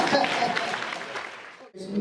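An audience at a panel discussion claps hands in a brisk burst of applause that fades after about a second and a half, followed by a voice starting to speak.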